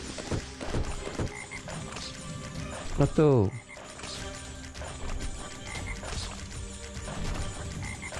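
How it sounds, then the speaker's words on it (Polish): Frogs croak in the video game Guardians of Holme, a cluster of loud, rapid croaks around the middle standing out over steady game sounds while someone talks. "Dużo żab się narobiło."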